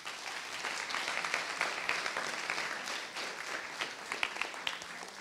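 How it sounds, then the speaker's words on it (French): Participants at an eloquence debate contest final clap for themselves, a sustained mass of hand claps from a sizable audience, moderately distant and steady, with a few sharper individual claps standing out. "vous pouvez vous applaudir."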